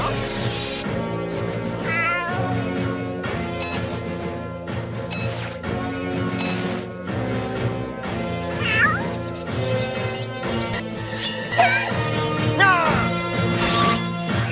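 A cartoon cat meows and caterwauls repeatedly with rising, whining cries over a busy animated-show music score and occasional crash effects, the voice loud and up front.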